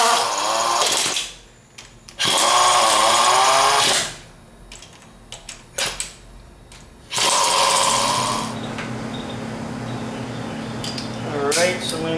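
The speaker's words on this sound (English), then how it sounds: "Probably get my impact just to get them down in the spot that we want." Impact wrench driving head bolts on a Ford Ranger engine fires in several loud, rattling bursts of a second or two with pauses and clanks between, and someone speaks in the gaps.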